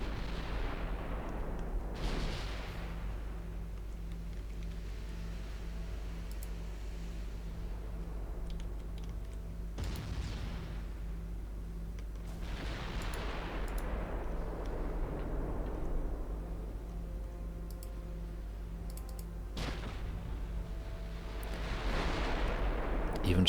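Naval guns firing high-explosive shells in a game of early dreadnought battleships, with three or four heavy booming salvos spaced several seconds apart, each rolling off into a long rumbling decay over a steady low engine drone.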